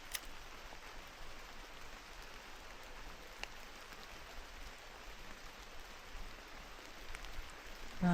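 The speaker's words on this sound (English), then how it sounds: "I do like to be in the forest as well, but not when it's raining this much." Heavy rain falling in a forest, a steady, soft hiss of drops with scattered louder patters, fairly faint and continuous, with no voices.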